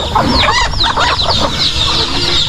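Farm chickens cluck and chatter busily while eating yellow corn, with several overlapping birds heard loudly and up close, alone with no talking.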